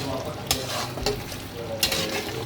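Biryani masala with oil and vinegar frying in a pot, a steady soft sizzle with a few sharp stirring scrapes at regular intervals, close by and without voices.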